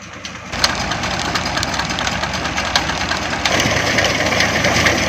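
A tractor engine works in farm fields in a Punjab village, a loud, steady knocking diesel chug with dense rhythmic pulses that grows a little heavier partway through.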